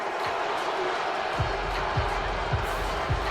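Angry stadium crowd roaring in disapproval after a penalty flag in the football video game Madden NFL 23, a dense continuous wall of boos and shouting with a few low thumps pulsing underneath.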